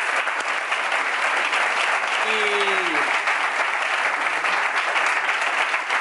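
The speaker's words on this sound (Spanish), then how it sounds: "Un aplauso a toda esta gente." An audience at a talk on sleep tips gives a sustained round of applause, dense steady clapping filling the room, with a brief voice heard over it.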